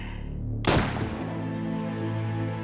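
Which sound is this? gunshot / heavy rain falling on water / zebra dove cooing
gunshot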